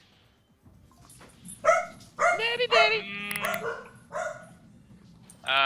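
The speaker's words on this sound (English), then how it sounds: "I can hear my dogs going crazy" Pet dogs bark and yip excitedly at home in short loud bursts, close and lively, while a voice speaks faintly in between.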